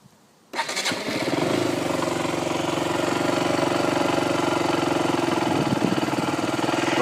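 A 2013 KTM Duke 125 motorcycle engine starts up and settles into a steady, close idle with a continuous low thrum and no talking.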